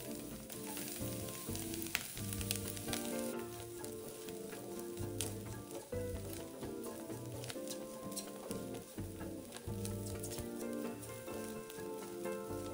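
Minced garlic stir-fries with dried shrimp in a pan for a taro dumpling filling, a continuous quiet sizzle with frequent scraping and tapping of a spatula, no voices.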